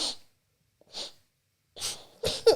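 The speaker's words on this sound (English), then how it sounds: "Why are you sniffing?" A person sniffs indoors in several short, breathy bursts with gaps of silence between them, close to the microphone and fairly soft.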